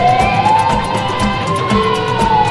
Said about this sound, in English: Oh no, there are like 6 police cars coming.